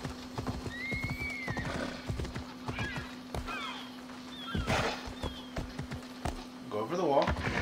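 A horse gallops and neighs in the video game Assassin's Creed Odyssey, with rhythmic hoofbeats, a couple of whinnies, and a steady game tone underneath, while someone talks intermittently.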